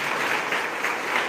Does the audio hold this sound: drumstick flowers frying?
no